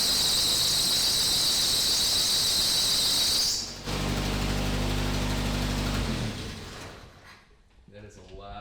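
An old Jeep starts up with a loud, piercing high screech that holds steady for a few seconds, then gives way to a deep engine rumble that fades into quieter sounds.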